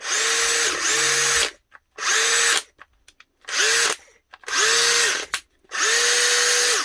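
A Metabo 18-volt cordless drill whirs loudly in five bursts separated by short pauses, the motor revving up and spinning down each time, with no talking.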